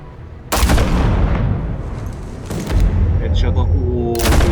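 Gunfire in a Batman video game, loud heavy shots bursting in at intervals with booming impacts, close and harsh, over game background sound.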